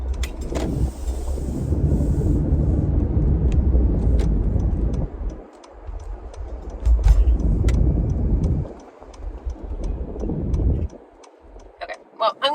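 A car drives steadily with a continuous low road and engine rumble, the steady drone dipping briefly a few times, while a turn-signal indicator ticks in a regular rhythm throughout.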